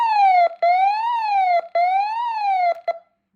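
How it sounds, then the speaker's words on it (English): A Midland WR11 weather radio sounds its alert siren, a loud, clean electronic wail that sweeps up and down in three cycles broken by brief gaps, then stops, with no other sound. "but they have a cool siren"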